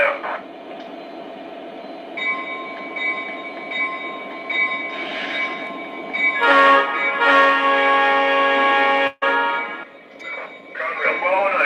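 A Lionel or MTH model train in Conrail livery, engine 1209, rolls along the layout with a steady mechanical hum and rising motor whine, a brief dropout near the end, under intermittent talk.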